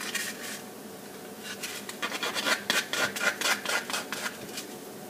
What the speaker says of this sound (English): just sand those corners a little bit